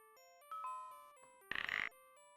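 A synthesized chime melody plays softly in a video game, followed by a brighter electronic doorbell ring, with sustained tones lingering.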